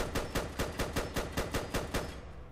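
Rapid automatic hip-fire from a FAMAS rifle in Fallout 4, about ten evenly spaced loud, sharp shots in a steady burst that ends with a brief fading tail.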